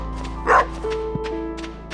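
A single short dog bark from the farm dog in Stardew Valley on PS4, a clear synthesized woof over a steady low game music hum, followed by a soft thud.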